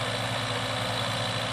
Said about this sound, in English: it's got a 50 horsepower diesel motor on it that drives a hydraulic pump